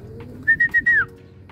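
A single clear bird whistle, a sustained tonal call that bends downward at the end, heard up close over quiet background rumble.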